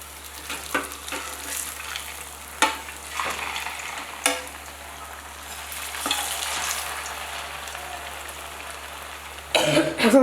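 Fasting cutlets sizzle steadily in a hot pan, with sharp clatters and scrapes of a spatula flipping them and a louder burst of frying near the end; faint background noise sits under the crackle.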